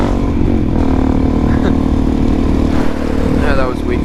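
A Suzuki DR-Z400SM supermoto motorcycle runs on a wet road in cold weather, its engine droning loud and close and rising briefly in pitch as it accelerates.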